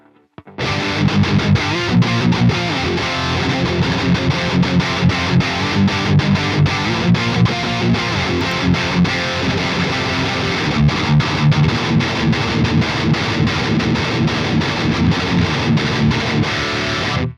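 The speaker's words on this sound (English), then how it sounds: "Such a clean distortion, man, that sounds so good." Electric guitar played through a Bogren Marshall amp simulation with cranked gain, giving a loud, dense distorted tone of steady chugging riffs that runs continuously with no talking.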